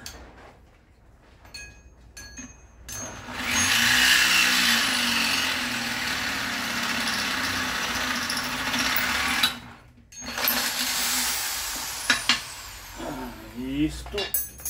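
A power drill bores into iron with a loud, sustained grinding whine lasting several seconds, briefly stops, then starts again with a few short bursts and clatters.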